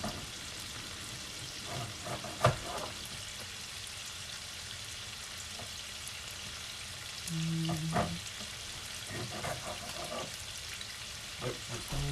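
Spanish rice frying in bacon fat in a pan, a soft steady sizzle with occasional stirring clinks and scrapes, fairly quiet and close.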